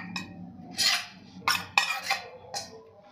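Washed poha (flattened rice) is dropped into a bowl and stirred, making a few soft scraping and clinking bursts of utensil against the dish, close and fairly quiet.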